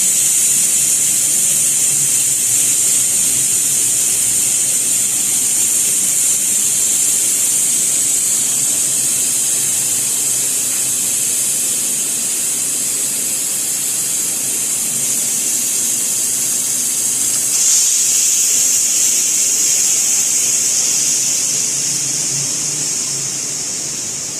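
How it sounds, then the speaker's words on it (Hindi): Steam hisses out of a pressure cooker while it is being vented before the lid comes off, during cooking of torai sabzi. The hiss is loud, steady and broad, close by, and runs the whole time with one brief surge partway through. "अब हम प्रेशर कुकर को खोलते हैं, उसकी सारी स्टीम निकाल कर"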